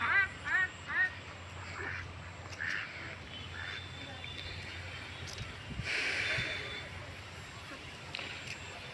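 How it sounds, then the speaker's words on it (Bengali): Ducks on open grassland quack in a quick burst of short, nasal calls at the start, then occasional fainter calls follow amid outdoor ambience, with a person speaking nearby. "এই যে হাঁসগুলো"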